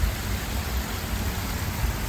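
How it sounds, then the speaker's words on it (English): A small decorative waterfall fountain outside a courthouse in Conroe, Texas, gives off a constant close hiss of splashing water, steady and alone for a brief moment. "Nice little water fountain, or waterfall we call it."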